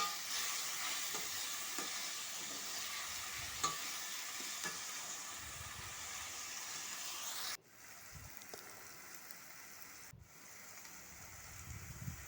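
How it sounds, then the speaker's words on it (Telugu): Salt and turmeric sizzle and fry in a pan for a mushroom curry, a steady broadband hiss with a few soft stirring knocks, near and continuous, briefly dipping twice. "కొంచెం సాల్టు, తర్వాత కొంచెం పసుపు ఇవన్నీ కూడా వేసేసుకొని కొంచెం గోల్డెన్ కలర్ వచ్చే వరకు వేయించుకోవాలి"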